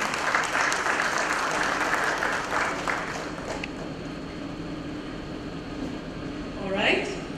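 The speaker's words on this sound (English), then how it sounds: "With a loud round of applause from the audience," An audience at a content marketing panel discussion gives loud, sustained applause that fades slightly toward the end, with a voice briefly audible near the close.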